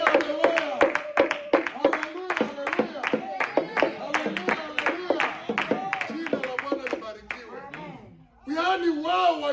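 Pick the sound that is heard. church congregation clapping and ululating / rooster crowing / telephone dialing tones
church congregation clapping and ululating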